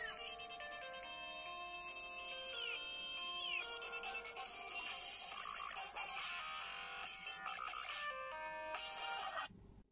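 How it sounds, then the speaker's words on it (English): A tinny electronic Nokia ringtone melody plays loudly from a Nokia Lumia 920 Windows Phone speaker, bright chiming notes looping for several seconds before cutting off. "Nokia tone,"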